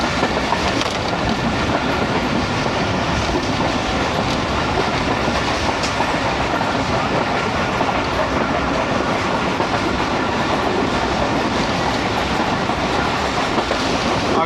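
Karakoram Express carriages rumble and clatter steadily over the rails between Lahore stations, a loud, dense, unbroken roar of wheels from inside the moving train.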